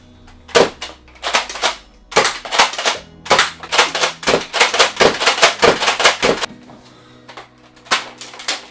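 Nerf Zombie Strike Longshot blaster being primed: a series of sharp plastic clicks and clacks in quick clusters, close and loud, with short pauses between groups and no talking.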